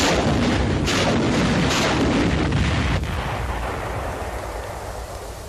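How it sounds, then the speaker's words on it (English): Demolition rockets blast a gap in a lightly reinforced concrete wall, 15 fired from 100 feet in 1944 army engineer footage, a dense roaring barrage of booms that slowly fades. "Here, demolition rockets were used to blast a gap in a 6 by 8 lightly reinforced concrete wall."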